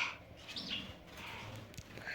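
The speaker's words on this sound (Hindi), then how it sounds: "चिड़िया तो फंस गया है" A small bird trapped indoors in a bedroom gives faint, thin chirps against a steady background hiss, a few soft calls scattered over a couple of seconds.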